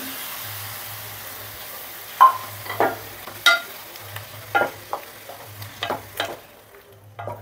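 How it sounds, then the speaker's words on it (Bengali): Tomato puree with ground coriander and Kashmiri chili powder frying for butter chicken, a quiet bubbling hiss broken by a series of sharp spoon scrapes and taps against the pan. "টমেটোর পিউরি দিয়ে আমরা কিছুক্ষণ এটা ভেজে নেব।"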